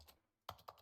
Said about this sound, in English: Typing on my keyboard.